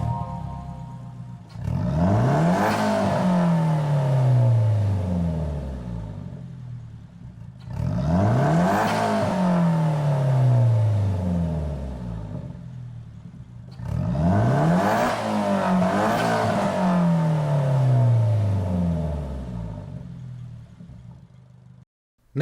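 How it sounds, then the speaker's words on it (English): A Nissan Silvia S15 with its SR20DET engine revs three times in Gran Turismo 7, each pull climbing hard before falling away, with loud close-up exhaust and whir and no talk. "we're going to begin with the default engine for the car, which is the SR20 DET Silvia TC"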